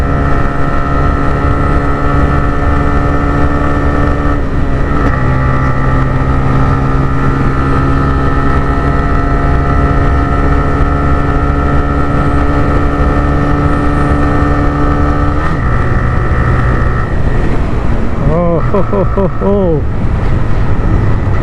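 A motorcycle engine runs with a smooth, steady harmonic hum, shifting pitch a couple of times as revs change, with wind noise across the microphone and a brief voice near the end.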